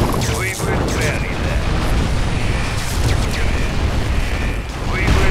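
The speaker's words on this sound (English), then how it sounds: "Missile launch confirmed." Missile launch and blast in the strategy game Mental Omega, a dense, sustained roaring rumble with bursts of crackling debris, loud and continuous throughout.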